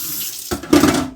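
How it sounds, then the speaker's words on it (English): A kitchen tap runs while a stand mixer's paddle is rinsed after mixing dinner roll dough. Water starts abruptly partway through and splashes loudly and close, growing stronger as it hits the paddle. "Just gave it a quick rinse for easier cleaning later"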